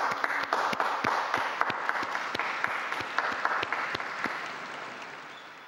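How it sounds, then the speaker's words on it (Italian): An outdoor crowd at Pope Francis's Angelus applauds a newly beatified priest, a broad wash of clapping with crisp individual claps standing out near the front, steady at first and slowly thinning out toward the end. "Un applauso al nuovo beato."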